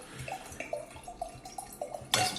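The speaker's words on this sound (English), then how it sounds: "That's the pour. They pouring up. They pouring up wine on set." Wine is poured on a set, with soft, intermittent glugs and drips trickling at low volume, followed by a brief brighter splash near the end.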